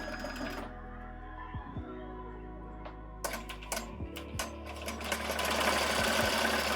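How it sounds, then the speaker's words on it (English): An embroidery machine running at high speed stitches a shirt in a steady mechanical whir, with brief clicks and thumps of the needle and frame as it works, fairly close and without talk. "I was running my machine before at 1100 stitches per minute."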